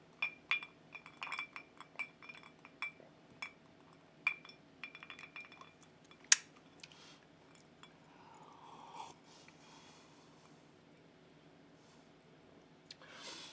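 Ice cubes clinking against a glass of bourbon as a finger stirs it, a series of light, bright ticks and taps, close and fairly quiet, scattered irregularly with softer rustling in between.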